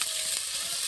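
Native shing fish, stinging catfish, frying in hot oil in a home kitchen, giving a brief, dense, steady hiss of sizzling.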